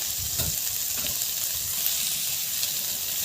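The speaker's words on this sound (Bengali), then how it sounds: "ভালো করে নেড়ে নেব।" Pan of frying food for a cauliflower-potato curry with fried egg, seasoned with salt and turmeric powder, hissing steadily and loudly up close with a few muffled stirring knocks at the start.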